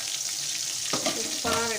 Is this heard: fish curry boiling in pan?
yes